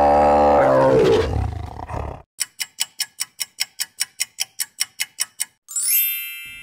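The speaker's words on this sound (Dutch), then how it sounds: "De tijger." A loud tiger roar opens, a deep rumbling growl for about two seconds, followed by a steady train of sharp ticking clicks and a brief rising chime, as in a children's animal-sound guessing game.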